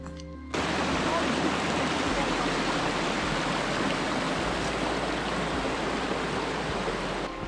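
Powerful Icelandic waterfall roaring steadily from close behind the falling water, a dense, continuous broadband rush that starts abruptly and holds loud and unbroken throughout.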